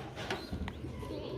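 Paired pigeons coo softly in a short burst, a low murmuring call from nearby birds against a faint background hum.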